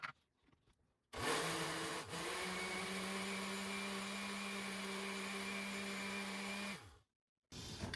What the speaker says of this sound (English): I'm going to blend this up a little bit more.